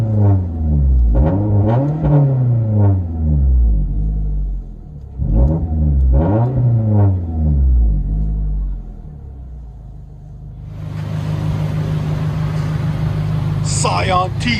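Inside the cabin of a 2016 Scion tC 2.5L four-cylinder with an LCGP metal bottle muffler and rear muffler delete, the exhaust rises and falls through several loud revs, then settles into a steady droning hum.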